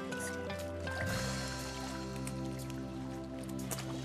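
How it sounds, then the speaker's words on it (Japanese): Running water from a tap or stream while fresh wasabi roots are rinsed, a steady close trickle with light splashing and dripping; low voices are faintly present. "試食前に、はい、わさびを洗ってきれいにしましょう"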